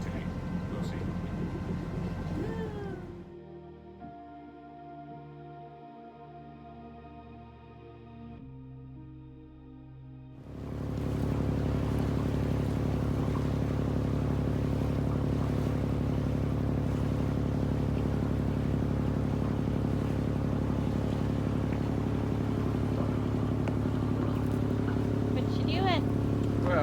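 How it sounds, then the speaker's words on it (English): A boat's main engine starts up and settles into a loud, steady diesel drone with deep, constant rumble, following a quieter stretch, with no pauses for the rest of the clip. "we're gonna fire up the main engine and motor down to our anchorage"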